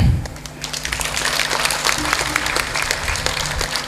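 Crowd at an inter-collegiate sports day claps for the teachers, principals and students, a lively mass of hands with distinct sharp claps, fairly loud and steady under a low hum.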